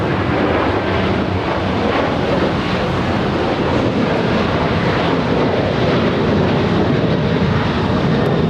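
An airplane roars past at Los Angeles International Airport, a loud, steady, broadband jet engine rumble that fills the whole stretch with no letup.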